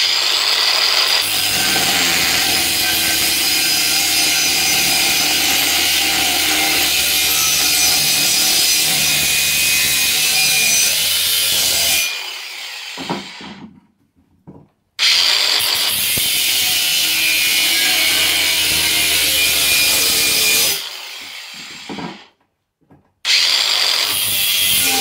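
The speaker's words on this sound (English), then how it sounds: "the next thing we're looking at cutting is this fence post or gate post" Ryobi One+ 18V cordless angle grinder cutting through a wooden fence post, a loud harsh grinding that runs about twelve seconds, drops out and briefly stops, then starts again before cutting off once more.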